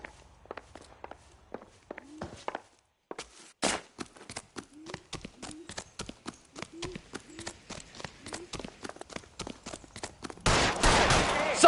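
Rapid bursts of gunfire from a PlayStation 4 video game crack out in quick succession, sharp and evenly spaced, building into a dense, louder volley at the end, with faint game dialogue beneath.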